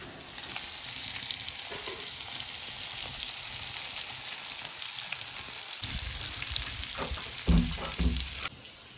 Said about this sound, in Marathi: एकदम सोप्या पद्धतीने हे मासे आपण फ्राय केलेत